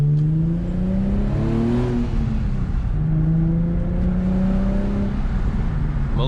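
A car with some rust underneath drives along, its engine humming steadily and rising and falling in pitch as it shifts through gears, close and continuous throughout.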